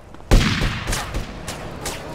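Gunfire bursts in a gang war in the video game GTA San Andreas: a loud sharp onset, then a rolling, dense fusillade of shots that trails off into scattered cracks, with no talk over it.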